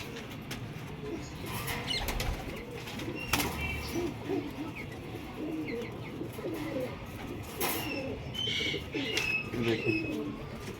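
Pigeons coo repeatedly at close range in a domestic pigeon-keeping setting, soft throaty calls recurring throughout against a steady background murmur.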